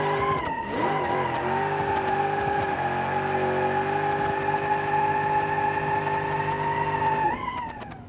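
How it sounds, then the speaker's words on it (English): A Big Block Chevy Impala in BeamNG.drive doing a sustained tire burnout: loud, steady engine drone with screeching tire squeal holding for about seven seconds, then cutting off abruptly. "It blazes tires like it's nothing."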